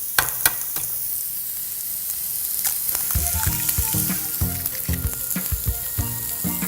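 Sausages and eggs sizzling on a griddle: a steady close crackle of frying, with sharp scraping clicks and knocks from a utensil joining in the later part, no voices.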